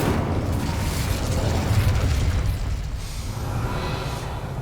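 An Incendio fire spell cast in Hogwarts Legacy roars as a loud, sustained whooshing burst of flame with a deep rumbling body, steady for a few seconds before easing slightly.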